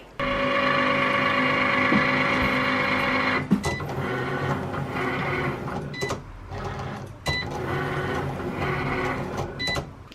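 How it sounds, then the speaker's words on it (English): A Cricut cutting machine cuts circles in a home kitchen, giving a steady mechanical whir that breaks into shorter bursts with brief pauses and high clicks, running alone without talk. "I got the Cricut going in the background, just cutting circles"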